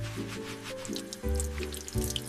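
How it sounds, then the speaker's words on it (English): Tap water runs steadily into a kitchen sink while dirty plates are washed, a continuous close gushing stream with shifting tones as dishes move under the flow. "I wash the dirty plates in the sink."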